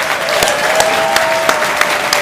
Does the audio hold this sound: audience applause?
yes